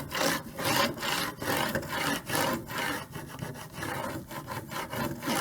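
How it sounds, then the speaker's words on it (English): Plastic scraper rubbing and smoothing vinyl transfer onto a wooden welcome sign board, a steady close scratchy scraping in repeated back-and-forth strokes with no talk. "I can smooth this design onto my wooden board. And I can use my scraper."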